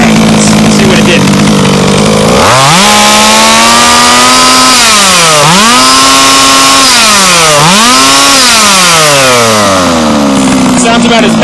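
A Baja minibike engine, its carburetor just leaned out a sixteenth of a turn, runs loud and close, idling briefly and then revving up and down through several throttle blips before settling.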